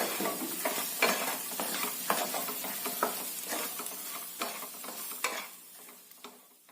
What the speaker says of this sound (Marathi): तेलासोबत हे छानस परतून घ्यायचं